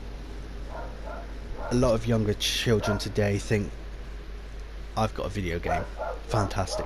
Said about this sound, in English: I apologize, that is a dog going ape crap.